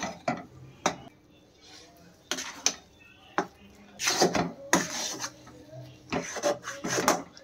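Semolina halwa being stirred with ghee in a pan, a spoon scraping and knocking against the metal in irregular bursts of clatter with quieter gaps between, close and fairly loud.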